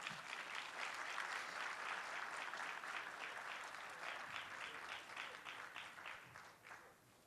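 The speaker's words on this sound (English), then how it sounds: "We should give Mr. Thigpen a round of applause." Warm applause from an audience at an art wall unveiling at a switching station, a dense, steady patter of many hands sustained for several seconds before fading out, quiet and slightly distant.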